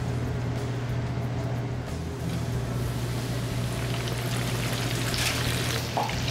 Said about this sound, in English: Squid is frying up nicely now.